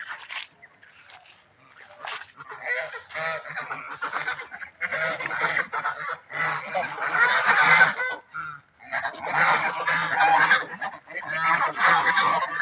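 A flock of farm ducks quacks and honks continuously in a rural farmyard, a loud, busy chorus of overlapping calls heard close up with no talking.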